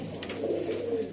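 Sialkoti pearl pigeon pairs give a short, soft throaty coo, close by, lasting about a second.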